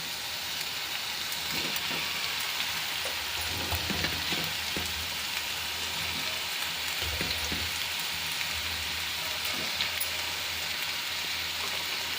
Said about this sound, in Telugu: ఇప్పుడు ఈ స్టేజ్లో మనం టమాటా ముక్కల్ని యాడ్ చేద్దాం.